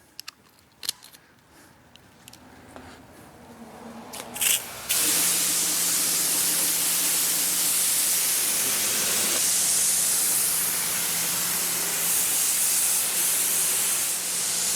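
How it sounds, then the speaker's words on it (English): A pressure washer sprays water over a Ford Bronco during a car wash, a loud, continuous hissing rush that starts suddenly after a few faint clicks and knocks and keeps going steadily to the end. "let's spray this thing off"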